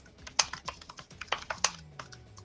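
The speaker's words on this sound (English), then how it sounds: "That's you typing." Quick, uneven typing on a computer keyboard, close and crisp, with irregular clusters of clicking keystrokes and a few louder taps, no voices.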